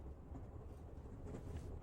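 Train from the video game Shadow Hearts Covenant rolling along, a steady low rumble with faint rhythmic clatter, continuous and moderately close without talk.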